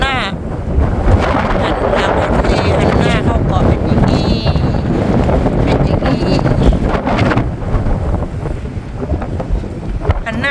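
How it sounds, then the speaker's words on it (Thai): Strong sea wind buffets the microphone in a steady roar on a beach on Borkum island, with the wash of surging waves beneath and occasional faint voices. "คลื่นทะเลซัดสาด อู้ลมดีจังเลย"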